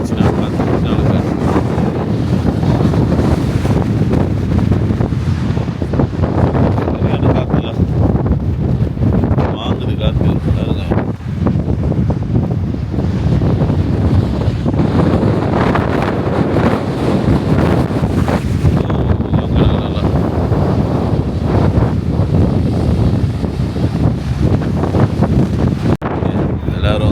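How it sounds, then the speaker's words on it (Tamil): Strong wind gusting off a mountain beside the sea near Cape Town, a loud continuous roar buffeting the microphone, with a voice talking over it. "காற்று அது வந்து இந்த மலையில் பட்டு திருப்பி போகுது காற்று"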